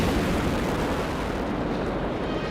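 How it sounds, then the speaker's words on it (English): Dense, continuous rumbling blasts from a TV show's battle scene fill the whole stretch, loud and broadband like a barrage of explosions without pause. "There's so many explosions in this."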